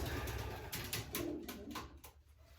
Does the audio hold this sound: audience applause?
no